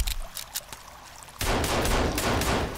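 Rapid pistol gunfire in the survival game Sons of the Forest, a few sharp shots at first, then a dense, loud burst of continuous firing and clatter with no talk.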